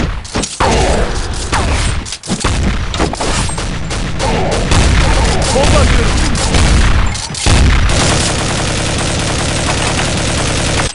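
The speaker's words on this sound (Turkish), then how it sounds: "Bomba atıyorum." Loud in-game explosions and gunfire from Counter-Strike Zombie Escape fill the whole stretch, with dense bursts, heavy booms and brief dips near the start and middle.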